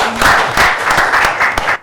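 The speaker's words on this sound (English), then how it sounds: "Please give a round of applause and wish her all the best." Audience applause rings out at an academic talk on spinout companies, a loud, dense burst of many people clapping that holds briefly and then stops abruptly.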